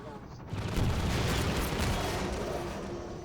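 Gunfire in the video game Half-Life 2: a burst of booming, crackling shots erupts after a brief quiet and rolls on loudly before slowly easing off.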